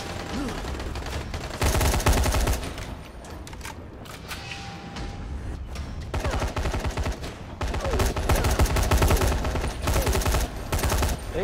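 Video game gunfire in a co-op shooter crackles in dense rapid bursts, with a quieter lull midway before a louder, sustained stretch of fast shots at the end.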